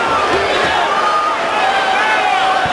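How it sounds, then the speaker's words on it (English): An arena crowd in Newark, New Jersey roars on its feet during the Kimbo Slice vs James Thompson fight, a steady, loud wash of cheering with a commentator talking over it. "And the crowd is on its feet here in Newark, New Jersey."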